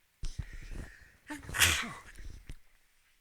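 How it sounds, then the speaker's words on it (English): A single sharp sneeze bursts out after a quick intake of breath, loud and close, followed by some faint breathing. "I have to sneeze 1 second."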